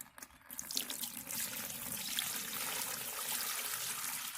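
Maple sap pours steadily through a t-shirt filter, a continuous bright splashing trickle that starts abruptly and holds close and fairly loud throughout.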